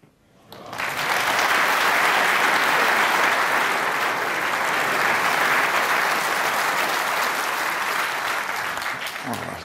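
Sustained applause from a large snooker crowd at the Crucible during a 2018 World Championship semi-final between Higgins and Wilson, swelling quickly and holding steady for several seconds.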